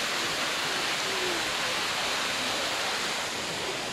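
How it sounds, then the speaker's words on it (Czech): Water pouring steadily over a fishpond weir, a loud, continuous close-up rush of broadband roar with no pauses. "tady brutální splávek"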